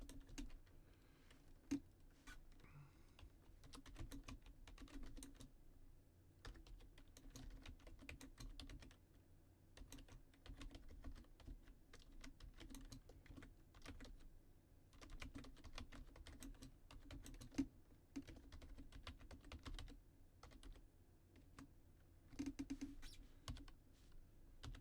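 Steady typing on a computer keyboard in quick, uneven bursts of clicks that run the whole time, fairly close, with a soft low hum underneath and no voices.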